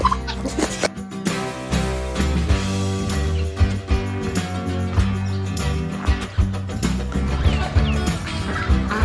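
Ducks quack repeatedly at a backyard pond on a farm with chickens nearby, a busy overlapping chorus of loud, close calls with some clucking fowl mixed in.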